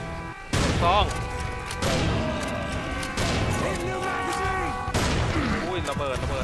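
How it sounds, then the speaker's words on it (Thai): Explosions in the video game Serious Sam 4, several loud booming blasts in sequence with crashing debris and game effects, under a player's excited talk. "อุ้ยระเบิดระเบิด"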